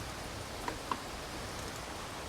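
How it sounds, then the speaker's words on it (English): Steady heavy downpour of rain outdoors during work on a Jeep Wrangler JL, a constant dense hiss with a couple of sharper drip ticks, close and even throughout. "it's starting to downpour even worse"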